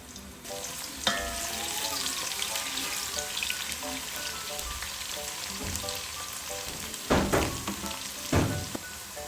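Onions go into hot oil in a pan to make matar pulao, giving a loud, steady sizzle and crackle with a few sharp clatters of stirring.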